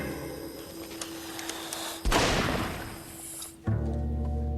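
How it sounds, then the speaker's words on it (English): A boiler's gas catches with a sudden loud whoomp partway through, a broadband burst that settles into a steady roaring burn, preceded by a quieter hum and hiss. "Explosion."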